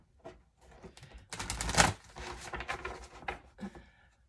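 Cards are shuffled up close in a quick flurry of papery riffling and soft clicks, building to a dense burst before trailing off.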